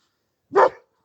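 A single short Kangal dog bark, fairly close and clear, with silence around it.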